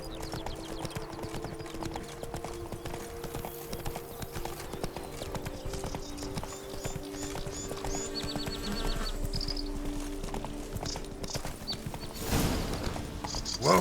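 Roach, Geralt's horse in The Witcher 3: Blood and Wine, clip-clops in a steady rhythmic trot beneath ambient game music and faint insects, with a brief whinny-like burst near the end.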